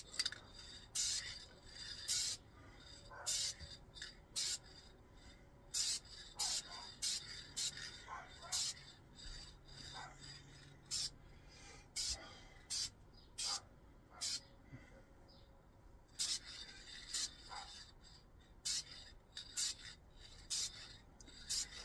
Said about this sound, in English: I start spraying about here before I get the body, go across the body and stop spraying here.